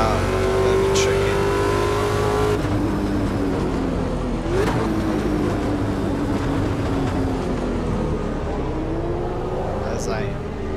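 Ferrari F40 engine on a race track, a loud continuous engine note with revs rising and dropping through gear changes, running the whole time under occasional speech.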